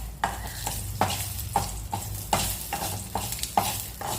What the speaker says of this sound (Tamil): பருப்பு தாளிக்கிறேன்